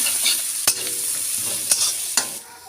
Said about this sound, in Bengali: দিয়ে দিলাম এই যে পেঁয়াজ কুচি, দিয়ে দিলাম যে রসুন বাটা, ভালো করে মিক্সিং করে নাও